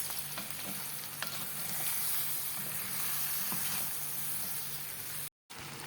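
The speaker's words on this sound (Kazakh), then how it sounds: "Осылай бетіне лагманның тестісін салып қуырып аламыз." Lagman noodle dough frying in a hot pan with tomatoes, a steady close sizzle with soft stirring scrapes throughout, briefly cut off near the end.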